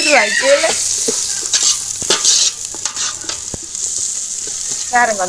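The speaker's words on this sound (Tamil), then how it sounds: "வெங்காயம் நல்லா பொரியுது" Chopped onions sizzle and crackle steadily in a hot pan in a Jaffna village kitchen while kothu roti is prepared, with sharp scrapes and knocks of stirring, close and loud throughout.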